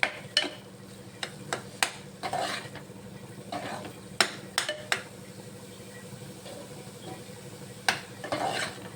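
Food fries in a pan over a quiet background sizzle, punctuated by sharp metallic clinks and scrapes of a spoon stirring against the pan at irregular intervals.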